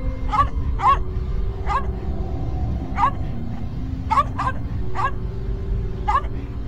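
A dog named Cinnamon in a video game barks in short sharp yips, about ten spaced irregularly, over a steady low background hum.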